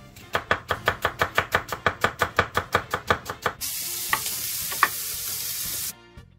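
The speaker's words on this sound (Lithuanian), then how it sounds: "pasiruoškim raudonąjį svogūną, susipjaustykim" Red onion sliced into half rings on a cutting board, a fast regular run of about twenty crisp knife chops, close and loud, then a switch to a steady hiss of oil frying in a pan with a couple of light clinks.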